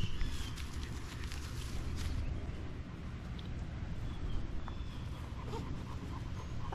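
Puppies from a Braveheart x Vanilla litter play close by, with soft panting, small whimpers and scuffling paws on the ground, a steady low rustle running throughout.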